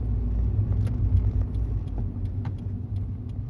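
Inside a 2003 Toyota Yaris TS, the engine sets up a continuous loud low rumble, with a few faint knocks and rattles over the steady drone.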